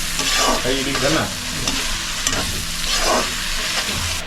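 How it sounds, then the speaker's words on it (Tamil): Onions frying in a pan with fennel seeds, stirred steadily for a fish puttu dish, a loud continuous sizzle with rhythmic scraping strokes and no talk. "சோம்பு கொஞ்சம் நல்லா செவந்து வரணும் செவந்து வந்ததுக்கப்புறமா தான் நம்ம வெங்காயம் போடுறோம்"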